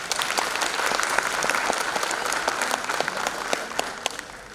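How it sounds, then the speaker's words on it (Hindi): A crowd at a 75th corps day diamond jubilee celebration applauds a performer, many hands clapping in a brisk, dense patter with sharp individual claps standing out, steady for several seconds before easing off slightly. "तो एक बार जोरदार तालियां"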